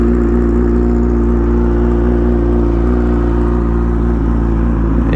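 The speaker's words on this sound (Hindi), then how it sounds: "ये है जी यामाहा R6 की आवाज, cold start with SC project slip on" A Yamaha R6 sport motorcycle with an SC Project slip-on exhaust idles after a cold start, giving a loud, steady, deep engine drone close by without revving.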